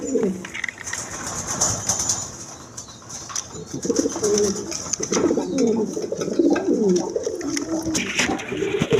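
A pair of Raj Golla pigeons coos in repeated low throaty phrases close by, steady over several seconds amid a faint background hiss and light rustling.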